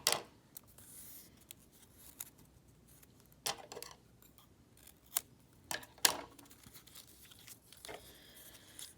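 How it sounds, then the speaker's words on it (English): Scissors cut a strip of yellow quilling paper with a few faint, crisp snips scattered across a quiet room, close to the ear and without speech. "Then we can take our other strip of yellow and we're going to cut it into 4ths."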